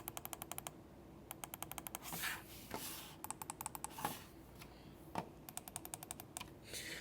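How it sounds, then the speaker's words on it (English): Rapid clusters of sharp, dry clicks from a Logitech MX Master 3 mouse middle click button, pressed in quick bursts with brief pauses between, close and fairly quiet in an otherwise still room. "And then the middle click button."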